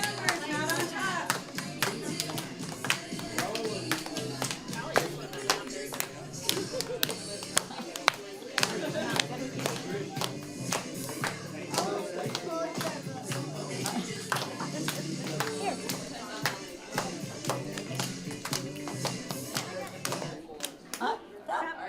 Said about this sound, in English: All right, let's keep clapping.